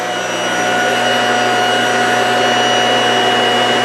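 An electric motor with a stator runs on a lab test rig, giving a loud, steady whine and hum that rises slightly at the start and then holds constant.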